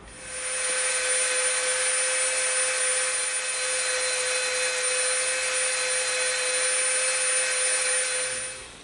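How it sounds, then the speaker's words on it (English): A power tool, likely a rotary tool, whines steadily and loudly as it bevels the edge of a sheet of EVA foam, with a constant high-pitched tone and no speech. "Now we're gonna bevel right up to that line."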